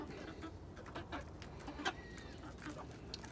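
A flock of backyard chickens clucking softly, scattered short clucks and calls at moderate distance over a low background hum, no talking.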